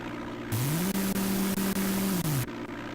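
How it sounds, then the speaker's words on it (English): A propeller airplane engine in the DOS game Flight Simulator 5.1 drones steadily and loudly, rising in pitch as it starts, holding a buzzy tone and then winding down near the end. "Sounds like it's going to sputter and die"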